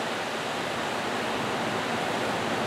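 Rushing water, a dense, steady broadband hiss like pouring or streaming water, loud and unbroken with no other sounds on top.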